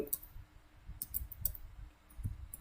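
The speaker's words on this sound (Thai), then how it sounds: "พิมพ์อีเมล" Quiet, scattered clicks of a computer keyboard and mouse as an email address is typed in, heard close and faint over a low hum with no talk.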